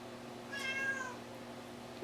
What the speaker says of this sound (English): I have a cat who meows in the middle of videos.